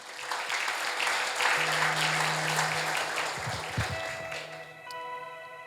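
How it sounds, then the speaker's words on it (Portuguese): A church congregation applauds during a worship service, producing a dense, continuous wash of clapping that eases slightly near the end as sustained keyboard-like tones come through underneath. "Aplauda o Senhor Jesus."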